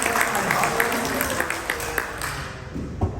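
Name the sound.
church congregation applauding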